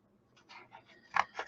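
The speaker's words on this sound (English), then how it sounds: "See if my scissors will do it." Scissors cutting chipboard for a craft album, a few quick crisp snips growing louder, the last two sharp and close, with no talk.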